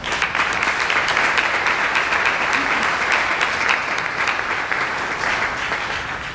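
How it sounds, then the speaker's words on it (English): Dense, sustained clapping from a gala audience, loud and close, continuing evenly for over six seconds before tapering a little. "have you give yourself a hand of applause for that"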